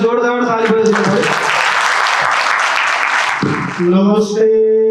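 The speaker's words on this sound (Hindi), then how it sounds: "एकपल्ट ओनर सरको लागि जोरदार ताली बजाइदिनु पर्यो।" At a ceremony, the crowd breaks into a short burst of hearty applause for the owner that lasts about three seconds, with someone speaking just before it starts and again right after it ends.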